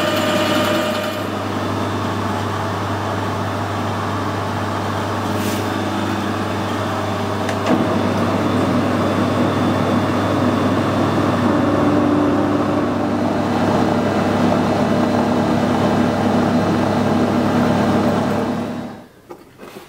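A drill press or hand drill bores with an 8.5mm tapping drill for an M10 thread in metal, part of a DIY gas turbine oil pressure relief valve, giving a steady loud whirring drone that continues for about eighteen seconds and then spins down.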